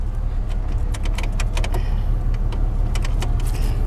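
Car key jangling and clicking as it is worked out of the ignition of a fire-damaged 1965 Ford Mustang, a series of light metallic rattles over a steady low rumble.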